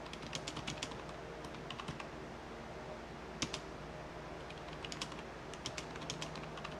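Quiet keystrokes tap out a password on a computer keyboard in uneven clusters and pauses, with a few sharper key presses, over faint room noise.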